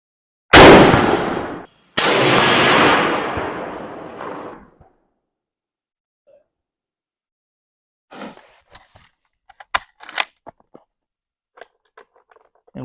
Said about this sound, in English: we'll shoot 3 just to give you an idea what the gun is capable of doing